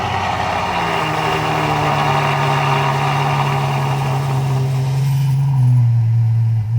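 Ferrari FF engine fitted with an aftermarket Rev 9 exhaust, idling with a steady, loud low rumble that dips and shifts pitch near the end, no voices.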